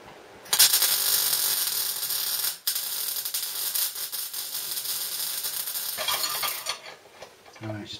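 A steel bar being welded onto thin sheet metal for a spray guard gives a steady, loud crackling sizzle that runs for several seconds, breaks off briefly, then resumes before fading out near the end.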